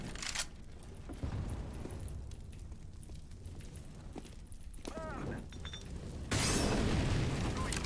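Grenade blast in the video game Counter-Strike 2, a loud broad burst near the end that follows stretches of players talking over game noise.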